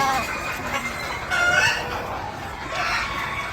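Gamefowl hens and roosters on a breeding farm cluck in a busy flock, with a rooster crowing in the middle, close and fairly loud against a noisy yard.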